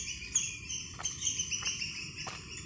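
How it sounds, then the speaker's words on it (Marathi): Sparrows near a tree give a few short, faint chirps spaced about half a second apart over quiet background hiss. "चिमणीचा आवाज येतो बघा"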